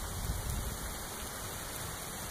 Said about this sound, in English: get out of the rain for real.